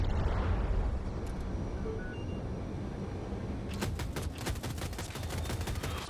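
Gunfire in the Battlefield 2042 video game while flying a stealth chopper: after a few seconds of engine rumble, a rapid, loud burst of automatic shots fires in quick succession to the end.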